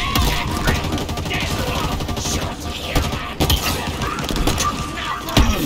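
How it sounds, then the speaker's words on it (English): Gunfire rakes toward the player in Halo Infinite, rapid volleys of shots with shattering, crashing impacts over a loud, busy battle soundscape, with several sharp bursts spread across the span. "Stop firing at me!"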